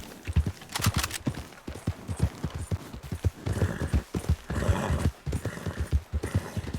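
Horse hooves clip-clop steadily in a video game as the horse pulls a hunting cart, with an occasional neigh and a busy background of ambient game sound.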